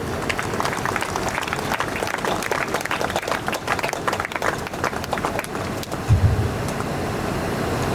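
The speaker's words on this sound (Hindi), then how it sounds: "जोर से ताली बजाएं।" An audience at a silver jubilee church gathering claps loudly together, dense continuous applause that fills the room, with a brief low thump near the end.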